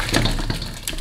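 Water pours steadily into a cooking pot holding thawed large pork bones that are about to be boiled, a close, continuous splashing rush with no voices.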